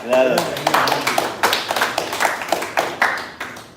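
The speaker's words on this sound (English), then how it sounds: "So please, big clap." A conference audience at an OC South event claps in a steady crowd patter over a few seconds, individual hand strikes popping out near the front, with background voices mixed underneath.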